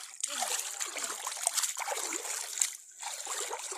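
Clear, cold water trickles and splashes steadily along a shallow village stream, a close continuous babble with a short lull near the end and a voice faintly present underneath.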